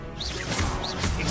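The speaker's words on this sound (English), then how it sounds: "Incendium. Expelliarmus." Disarming spell Expelliarmus cast in the wizarding game Hogwarts Legacy, loud magical whooshes with two rising swishing sweeps over a dense crashing burst, full and near with no pauses.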